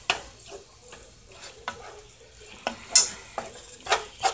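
Ground meat browns in a pan, a low sizzle under repeated scraping stirs and clacks of a utensil against the pan at close range, with no talking.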